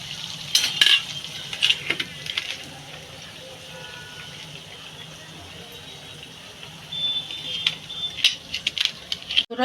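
Potato, semolina and cheese snack balls fry in a pan in a home kitchen, a soft steady sizzle under scattered clinks of a spoon and utensils, fairly quiet and close.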